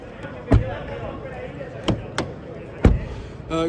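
A 2022 Hyundai Bayon hybrid's doors thump shut several times, with sharp, solid closing impacts spaced across a few seconds over steady background noise, ending in a brief clicking rattle.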